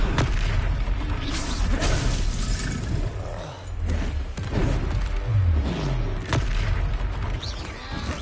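Confringo fire spell explosions in the Hogwarts Legacy video game land during a duel, loud booms and shattering bursts over a busy battle soundscape, repeating every second or two.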